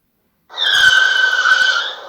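A breakdown sound effect from the A3 game board app: a single shrill, whistling electronic tone lasting about a second and a half, loud and close with no talking.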